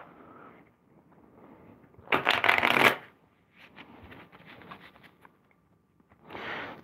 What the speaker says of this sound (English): So I'll shuffle and shuffle